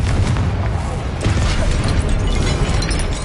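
Loud booming blast of the Confringo fire spell in the video game Hogwarts Legacy, a dense roaring burst with rumbling low end continuing through the clip amid other combat effects.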